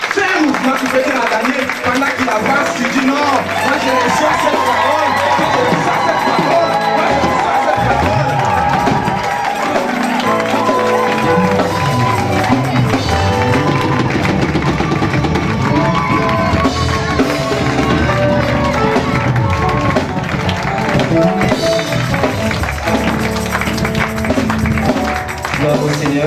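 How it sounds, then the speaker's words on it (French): A church congregation cheers, claps and acclaims in a loud, sustained wash of voices and applause with music underneath, continuous throughout. "Là, vous avez acclamé pour moi."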